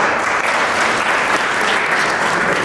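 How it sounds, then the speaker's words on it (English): Audience at a judicial event applauding the district judiciary, loud, dense and steady clapping sustained for the whole stretch. "so a big clap for them"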